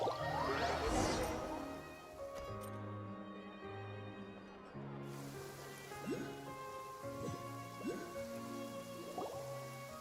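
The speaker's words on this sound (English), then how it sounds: "It's been raining non-stop for a few days now." Steady rain falls in Genshin Impact, a soft continuous patter with scattered drips, while bright game sound effects chime over it.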